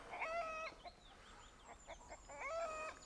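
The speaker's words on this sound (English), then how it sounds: "What is going on with the rooster?" A rooster gives agitated, strained crowing calls at the start and end, with softer clucking between, faint and somewhat distant over background hiss.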